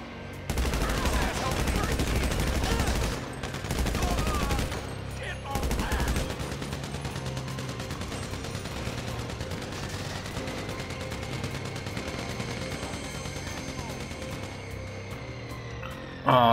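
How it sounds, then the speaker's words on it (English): Rifle gunfire during a GTA Online free-aim Survival match, sustained loud volleys of rapid shots, sometimes clustered into brief pauses, followed by a long stretch of steady background fire and game noise. "I'm here to get a lot of kills with my rifle."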